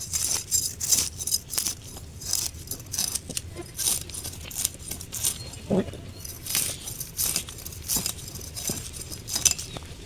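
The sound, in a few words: scaling and cutting tilapia fish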